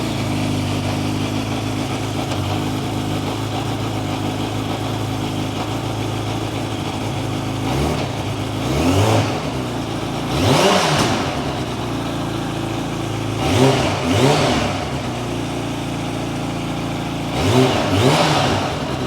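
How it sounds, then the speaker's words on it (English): A 2023 Kawasaki Ninja H2 on its stock OEM exhaust and muffler idles steadily, then blips its throttle in four sharp revs, some doubled, each rising and falling quickly before settling back to a close, loud idle. "let's start the motorcycle up and see how it sounds with the stock OEM exhaust"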